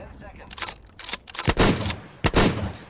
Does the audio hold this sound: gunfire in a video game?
yes